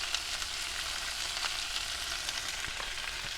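Chicken breast and vegetables for fajitas fry in a pan in a van kitchen, a steady, close sizzle with faint crackles and scrapes of stirring, loud throughout and alone, with no talking.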